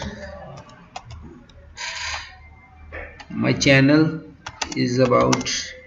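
Keys tap on a computer keyboard in irregular bursts of clicks while someone speaks over the typing, his voice sometimes louder than the clicks.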